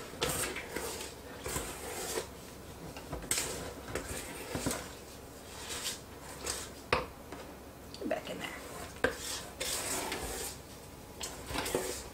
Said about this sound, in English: you want to make sure that you thoroughly mix in those chocolate chips